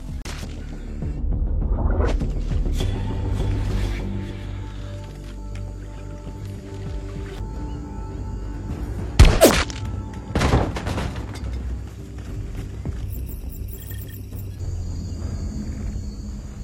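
Two sharp, loud gunshot-like bangs ring out a second apart amid a dense, rumbling background of ambient noise, with no talking.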